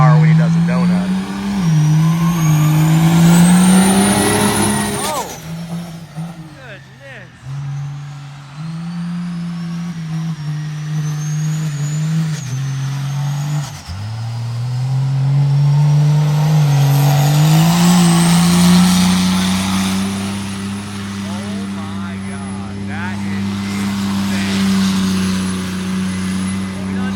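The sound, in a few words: Cummins diesel monster truck engine revving while doing a donut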